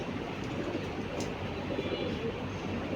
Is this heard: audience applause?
no